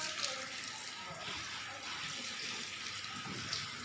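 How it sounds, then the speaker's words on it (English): A jackfruit is washed under clean running water, giving a steady splashing gush of liquid at moderate distance, continuous and fairly quiet throughout. "At first, I'm washing it with a clean water."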